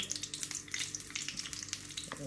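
Mustard seeds fry in hot oil for an egg masala gravy, giving a quiet, dense crackle of rapid tiny pops over a soft sizzle, with no voices.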